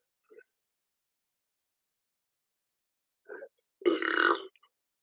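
A single loud burp after drinking beer, close to the mic, a short throaty eructation following a couple of faint soft vocal sounds in an otherwise quiet room.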